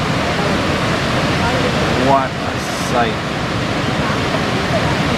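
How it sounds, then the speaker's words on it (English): Water pours over the edge of a large falls in a steady, loud broadband roar heard up close, while a person speaks briefly over the constant rush. "Scott and I are right at the edge of the falls here. You can see the water going over."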